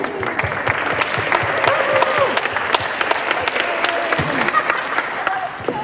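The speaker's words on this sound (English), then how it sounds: "let's clap for Helen" An audience at a community meeting on the East Side claps loudly and steadily, many hands making a close, crackling patter with a few sharper individual claps standing out.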